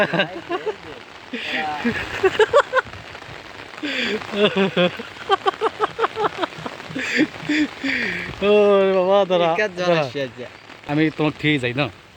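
Heavy rain pours down steadily on a village road, a constant wash of noise heard beneath near, ongoing conversation.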